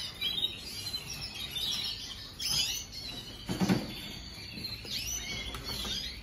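Many small birds, chicks among them, chirp and tweet continuously at close range, a busy overlapping chatter with no voices.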